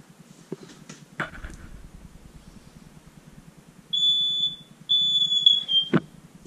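Two electronic smoke alarm chirps, each a shrill high-pitched tone lasting about a second, separated by a short gap over a faint low hum.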